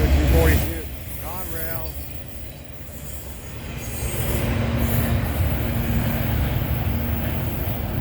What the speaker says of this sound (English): southbound Intermodal Autorack train, CN E271 on the CN Champaign Chicago sub